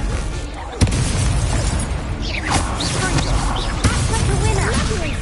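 A Confringo blasting spell goes off in a Harry Potter video game, a sharp bang followed by a roaring, rumbling blast that sustains loudly with a second burst later, game voices calling out spells over it.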